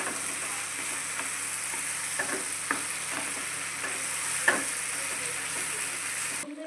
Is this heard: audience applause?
no